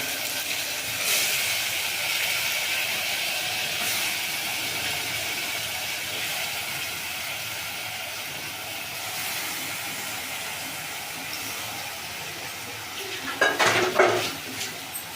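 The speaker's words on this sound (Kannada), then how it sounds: "ಈಗ ಎಣ್ಣೆನಲ್ಲಿ ಫ್ರೈ ಆಗಿದೆ ಈರುಳ್ಳಿ ನನ್ನ ಲಿವರು ಗುಣಕಾಯಿ ಹಾಕೊಳ್ತಾ ಇದ್ದೀನಿ" Onion and liver pieces fry in oil with a steady, soft sizzling hiss throughout, ending with a short burst of utensil clatter against the pan.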